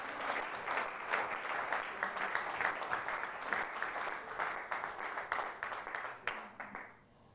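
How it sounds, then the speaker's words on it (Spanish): A church congregation at a men's convention applauds in praise, a dense wash of many hands clapping steadily for several seconds before tapering off at the end. "Dale un aplauso grande al Señor"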